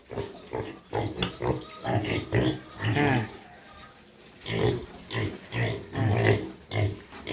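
Pigs in a piggery grunt and squeal repeatedly at close range, bursts of loud oinks coming one after another, with someone speaking briefly between them.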